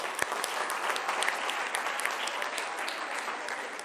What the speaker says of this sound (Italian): un applauso a Angelo.